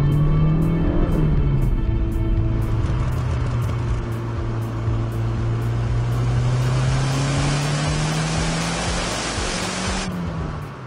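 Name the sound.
1990 Fiat Uno Turbo i.e. engine starting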